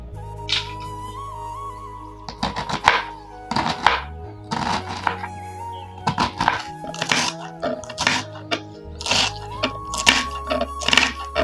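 Cabbage is finely chopped with a knife on a board, making irregular runs of sharp thuds and clusters of quick chops over soft background music, with brief pauses between bursts.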